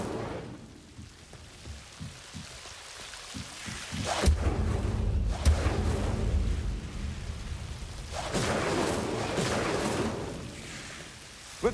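A fire spell cast in Hogwarts Legacy ignites with a sudden low whoosh and rumble, followed by a roaring burst of flame that swells and fades, then a second fiery flare near the end. No one talks.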